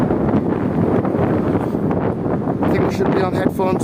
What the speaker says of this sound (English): It is very windy, and I think we should be on headphones again.